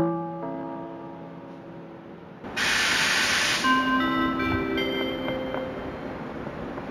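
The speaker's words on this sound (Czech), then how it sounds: "Vlak je připraven k odjezdu." At Prague main station, tonal rail hums fade, then a loud burst of hissing steam breaks in with metallic squeals, as a train begins to pull away.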